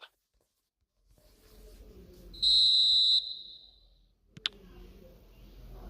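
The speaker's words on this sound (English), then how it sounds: "There's the whistle." A referee's whistle in the eFootball video game gives one sustained, shrill blast lasting under a second over a low, steady stadium crowd murmur, followed shortly by a sharp click.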